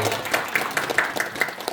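A small group applauds a teacher at a school training session, a short burst of light clapping with distinct individual claps in an uneven rhythm, fairly close and moderate.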